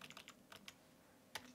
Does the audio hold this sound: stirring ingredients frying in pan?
no